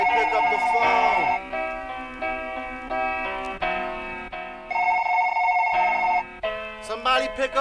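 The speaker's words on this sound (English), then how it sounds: "Somebody pick up the phone." Repeated electronic telephone bell rings sound loudly within a hip-hop track, in bursts of steady tones that shift in pitch, with short breaks between them.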